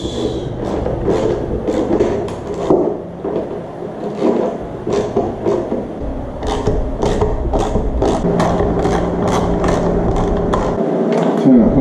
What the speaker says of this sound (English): Now I tighten the pan nuts.